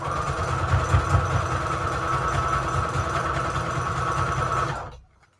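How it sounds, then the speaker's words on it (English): A sewing machine runs steadily for about five seconds, stitching scrap fabric and lace together with a dense, continuous mechanical whir before stopping abruptly; no talking. "Let's see about sewing this together."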